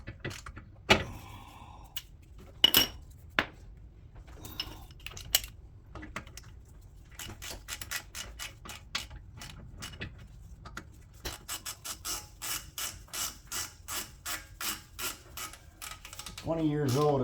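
A ratchet wrench snugs down bolts on the rear knuckle of a 20-year-old Lexus LS430, with rapid clicking bursts and scattered metallic taps up close, ending in a short whirring rattle.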